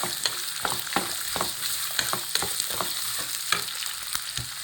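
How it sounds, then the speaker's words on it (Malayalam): Guava pieces frying in a pan are stirred, with a steady close sizzle underneath and a spoon scraping and tapping the pan at irregular intervals, no talk. "നന്നായിട്ടൊന്ന് ഇളക്കി കൊടുക്കാവേ"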